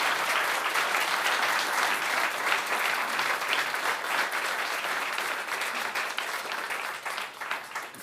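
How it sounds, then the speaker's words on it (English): An audience at an evening lecture on the 1900 Galveston storm, held at the McFaddin-Ward House, gives a steady round of applause that fills the whole stretch and tapers slightly toward the end. "can we get one more round of applause for our two speakers?"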